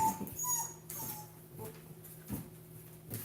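A puppy whimpers and yips softly in short repeated bursts, close but faint, with quiet scratchy rustling between the cries.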